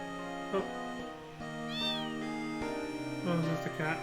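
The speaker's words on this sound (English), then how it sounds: "Oh, it's just a cat." Cat meowing in the Final Fantasy 8 video game, a couple of short meows over steady game music, with a person talking at times.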